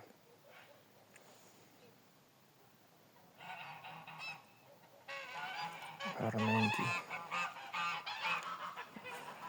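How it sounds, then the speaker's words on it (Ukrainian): Geese honk loudly and repeatedly at close range, several birds overlapping in noisy bursts, after a quiet stretch with a brief spoken word. "О, гусі проснулися."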